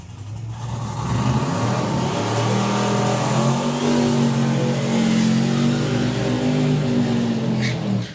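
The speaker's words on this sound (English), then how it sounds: "Good side-by-side burnouts as well." Two drag racing cars at Bug Jam do side-by-side burnouts, engines roaring loudly and steadily with layered droning tones that hold for several seconds before tailing off, no talk.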